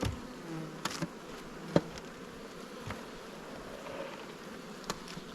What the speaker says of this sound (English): Looks like good bee numbers up the top.